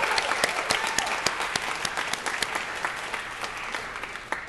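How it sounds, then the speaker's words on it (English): An audience at a journalism and broadcast awards ceremony gives a sustained round of applause, with dense clapping and sharp individual claps standing out, gradually thinning over four and a half seconds. "And one more round of applause for Denise."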